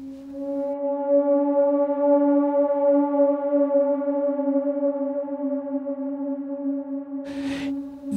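Sustained, drawn-out flute tone processed with reverb, delay and equalization, holding a steady pitch with rich overtones and a slightly wavering, dreamlike quality, ending with a short noisy burst.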